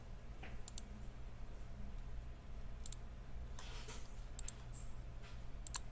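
Several mouse clicks placing curve points in drawing software, scattered light taps spread across a low steady hum, quiet and close with no talking.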